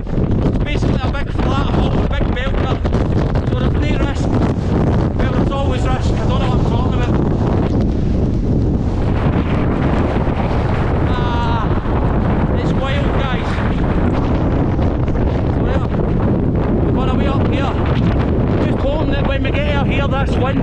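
Strong storm wind roaring over a mountain, loud, constant buffeting and rumbling across the microphone for the whole stretch, with a voice partly heard beneath it.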